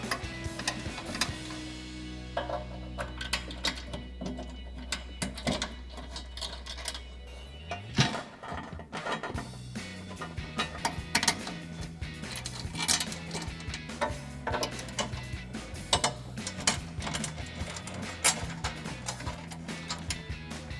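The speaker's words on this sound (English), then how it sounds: "we can take our bolts and thread them into those clips" Small metal bolts are threaded by hand into U-clips on a BARDE front bumper for a 2019-2023 RAM 1500, giving repeated light ticking and clicking over a steady background hum, with no talking.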